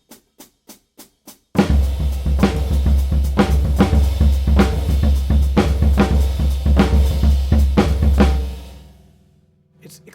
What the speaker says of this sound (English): there's 3 notes on the bass drum in a row, and then you do this flam between the floor tom and the snare drum.